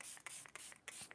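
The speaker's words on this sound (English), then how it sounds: "This is the ColourPop setting spray." ColourPop setting spray misted from a pump bottle in a makeup routine: five or six short, quiet hissing bursts at an uneven pace, close by and soft.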